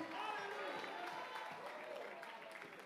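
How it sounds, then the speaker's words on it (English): Church congregation at an evangelistic revival night in Lancaster, Pennsylvania, clapping hands in a steady, dense wash of applause that fills the whole moment at a moderate, somewhat distant level. "Clap your hands."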